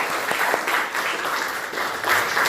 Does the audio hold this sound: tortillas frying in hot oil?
no